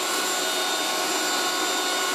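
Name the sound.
1980s Moulinex handheld vacuum cleaner running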